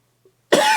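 A single sharp cough bursts out close up after a short near-silence, loud and raspy, with a faint click just before it.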